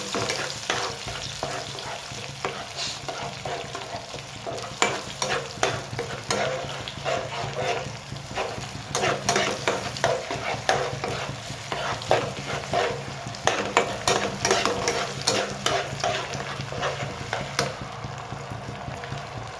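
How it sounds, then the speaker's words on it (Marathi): Tomato gravy spits and sizzles in hot oil while a spoon stirs it repeatedly, close and busy, with irregular scraping strokes and bursts of crackle over about twenty seconds, no one talking. "टमाट्याची ग्रेव्ही टाकूया आणि तिला आपण चांगली व्यवस्थित भाजून घेऊया."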